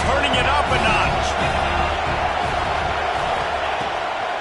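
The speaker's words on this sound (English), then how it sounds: "this crowd is turning it up a notch" A dense, roaring crowd at a college football game between ASU and Tennessee swells during a second down, loud and steady throughout with a commentator talking over it.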